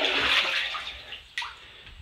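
Water splashes and pours onto a rubber grommet being fitted into a hole during a septic dump station build, a loud wash that fades, then a brief sharper splash.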